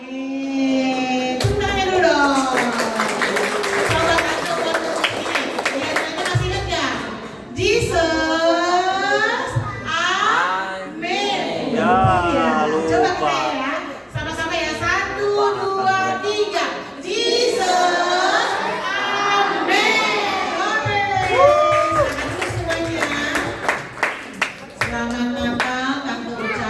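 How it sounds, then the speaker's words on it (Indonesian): Children's church Christmas service congregation clapping in bursts, mixed with children's voices and an adult speaking over a lively, busy room. "Tepuk tangan dulu dong."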